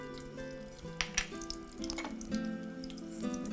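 Mustard seeds sizzle in hot oil with a faint, steady crackle and a few soft pops, heard quietly alongside sustained background tones.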